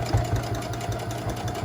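Sewing machine running steadily while back stitching over a fold on a fabric reading pillow, a continuous close mechanical hum with a faint rhythmic pulse throughout.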